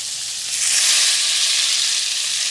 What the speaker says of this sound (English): So while they're over there sizzling